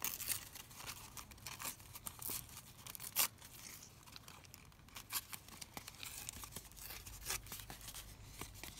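A paper page is torn from a coffee table book, with quiet, scattered rips and crinkles in brief bursts, close but faint, with no speech.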